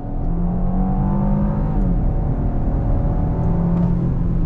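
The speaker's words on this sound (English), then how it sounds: "let's go ahead and go on throttle" The twin-turbo engine of a 2021 Genesis G80 Prestige luxury sedan accelerates on throttle, a loud steady rising drone with a smooth climbing pitch and a brief dip as the car shifts, heard from inside the cabin with no talking.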